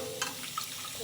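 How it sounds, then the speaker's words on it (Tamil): Water is poured into a cooking pan with food in it, a brief splashing trickle and light sizzle with a couple of small clinks, close and fairly quiet. "இப்போ தண்ணி சேர்க்க போகிறாங்க தேவையான அளவுக்கு"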